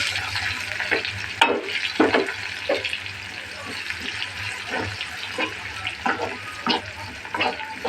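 Onion and garlic fry in a pan for thin khichuri tempering, a steady sizzle with repeated sharp scraping and stirring strokes, close and moderately loud with no talk.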